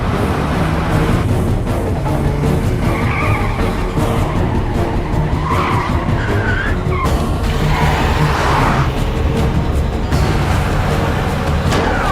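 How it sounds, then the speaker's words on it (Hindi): A car with failed brakes skids with a constant, loud roar of engine and tyre noise that goes on for the whole stretch without a break. "सागर सिंह जी, बिट्टू, ब्रेक्स नहीं लग रहे, ब्रेक्स नॉट वर्किंग।"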